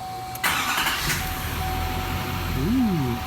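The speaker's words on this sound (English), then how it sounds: "Let's go ahead and fire this thing up" A 2019 GMC Duramax diesel truck, rebuilt after a wreck, starts with a short crank and settles into a steady, loud idle hum, with a voice briefly heard over it near the end.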